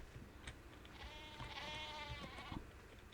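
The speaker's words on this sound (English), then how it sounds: "Lost your way, little sheep?" Tonal sheep bleats from the game ARK Scorched Earth, a few wavering calls mid-clip over a steady game backdrop, moderately loud and without talk.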